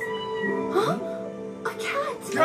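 A cat in the film Suzume meows several times, drawn-out plaintive calls heard clearly and mixed with nearby voices talking.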